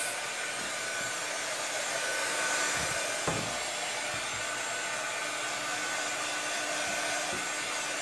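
Hair dryer blowing steadily while drying the sides of an MDF mosaic, a constant loud whooshing roar with a brief bump around the middle, no talking.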